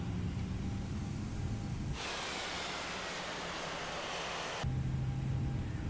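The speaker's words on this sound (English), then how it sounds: "Let's start engine number 2." An Airbus A319 engine starts in a flight simulator game, a steady broadband rushing roar that rises abruptly, holds for a few seconds over a low cockpit hum, then cuts back to a lower drone, with no speech.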